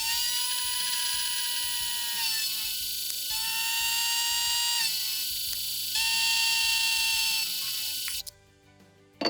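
A milling machine trims one side of a metal block at a 1-degree angle, giving a steady, high-pitched machining whine that runs in long passes with brief dips between them and cuts off near the end.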